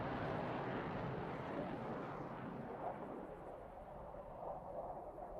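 Jet engine of a Belgian F-16 at airshow practice in the DCS flight simulator: a steady, broad roar that stays fairly even throughout, with no talking.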